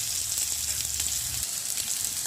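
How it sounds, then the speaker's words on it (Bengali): Cumin seeds and dried red chillies sizzle in hot oil in a home kitchen, a soft, steady hiss of frying that holds at low volume for a couple of seconds. "দিয়ে দিচ্ছি জিরে ফোড়ন, দিয়ে দিয়েছি দুটো শুকনো লঙ্কা"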